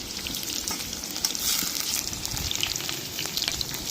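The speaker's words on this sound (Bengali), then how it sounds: "এখন আলু এখন ভাজা হচ্ছে।" Potatoes frying in a pan for a Bengali-style chicken curry: a steady, close sizzle with crackling pops throughout and no talk.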